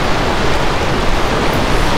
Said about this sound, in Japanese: これでもなんでこんな波があるんだろう